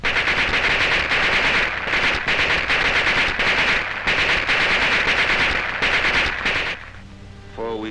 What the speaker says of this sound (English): fell to the machine guns of our enemies